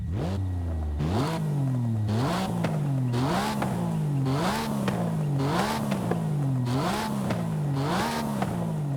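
Porsche Cayman GT4 RS in Forza Horizon 5, heard from outside: a loud engine revving up and down in repeated rising surges, roughly one per second, with a steady, continuous drone and no talk.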